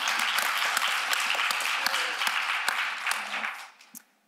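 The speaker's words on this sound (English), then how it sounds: "I want to clap." Audience applause at an entrepreneurship conference panel, a dense wash of clapping that stays steady, then thins and fades out near the end.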